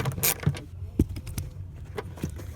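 A seat belt anchor bolt being loosened inside a 2012 Nissan Altima gives a handful of irregular, close-up metallic clicks and clunks, spaced about half a second apart, fairly quiet over a low background hum with no talking.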